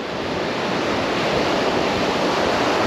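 Steady surf washes in and out at close range, a continuous broadband rush of ocean waves along a beach with no voices, heard while a tailor is being landed on light fishing gear.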